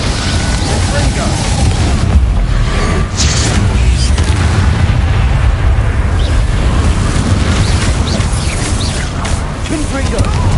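Confringo spell explosions in the Hogwarts Legacy video game boom continuously and loudly, with crashing blasts layered densely throughout a chaotic magical duel.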